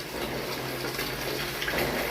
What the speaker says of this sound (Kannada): ಇವಾಗೇನೆ ಇದು ಒಂದು ತುಂಬಿ ನಳ ಬಂದ್ ಮಾಡ್ಕೊಂಡ್ಬಿಡ್ತೀನಿ ರೀ